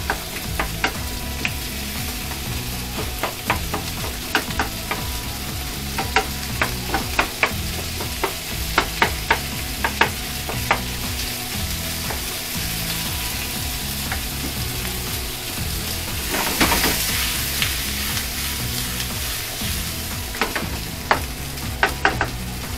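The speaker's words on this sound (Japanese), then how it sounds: "もう常にかけ混ぜておかないと焦げてしまいますからね" Retort sweet and sour pork and vegetables stir-fry over high heat, sizzling loudly and continuously as a utensil clatters against the pan in frequent sharp strikes, with a surge of hissing partway through.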